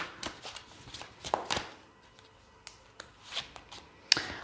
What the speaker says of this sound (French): je vais vous faire un petit tirage avec le tarot des anges gardiens pour avoir un petit message